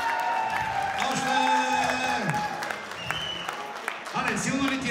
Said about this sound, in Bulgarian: Аплодисменти за Ален!